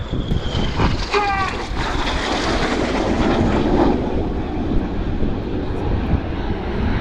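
Red Arrows jets at an airshow cross in opposing 360-degree turns, giving a loud, continuous jet roar that swells and sweeps past with no talk.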